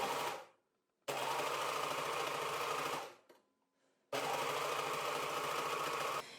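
A sewing machine stitches the side corners of a knitted hat in two close bursts of rapid, even whirring, separated by short pauses. The stitching is steady and fast and carries no talk.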